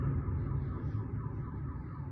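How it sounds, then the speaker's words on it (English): A car alarm sounds continuously outdoors, steady and fairly loud for the whole stretch with no talking over it. "There's that car alarm that's always going off."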